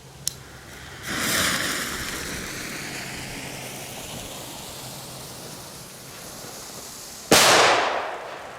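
Klasek DUM BUM MIDDLE RED P6A13 firecracker: a small snap, then a steady hissing spray of sparks for about six seconds, ending in one sharp, loud bang that fades into a short rumble.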